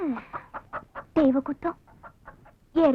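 A series of short hen clucks comes in an uneven run, near and clear, with a couple of louder drawn-out squawks at the start, middle and end.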